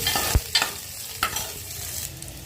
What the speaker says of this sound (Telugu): పోపు వేసిన